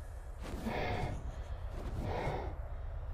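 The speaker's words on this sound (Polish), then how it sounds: "Czemu on oddycha przez ten, przez maskę" A game character in ARK Survival Evolved breathes through a mask during a storm, two slow, hollow, filtered breaths, faint and steady beneath low wind-like rumble, with no talking.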